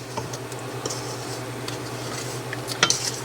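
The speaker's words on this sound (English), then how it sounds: "Let's get all this mixed together." A spoon stirs 7-Up cake filling with flour in a pot, making faint, scattered clinks and scrapes over a low steady hum, close by and without speech.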